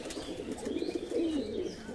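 A pigeon coos softly nearby, a low, rolling throaty call repeated through the moment, with faint background ambience and no talking.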